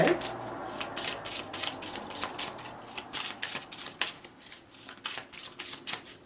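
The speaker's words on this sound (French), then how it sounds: "on va un peu tirer une carte pour clôturer ce tirage de ce mardi 22 juin" Tarot cards being shuffled and handled, a rapid run of crisp riffling flicks that repeat steadily throughout, close and fairly quiet, with no voice over it.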